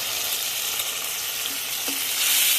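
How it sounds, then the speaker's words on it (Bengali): Turmeric, cumin and chilli powders sizzle in a pan for kochur mukhi curry, a steady close frying hiss with a light stir partway through. "শুকনো মশলাগুলো এখন ভালোভাবে কষিয়ে নেব"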